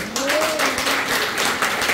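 Congregation applause in a church service for a musician, a burst of clapping that rises and holds, with a voice briefly audible at the start.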